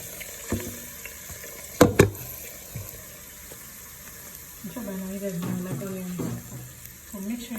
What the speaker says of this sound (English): just let this fry for some few minutes just to give the oil some flavor